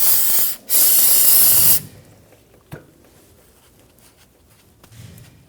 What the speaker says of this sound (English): Go ahead and spray that with some solvent.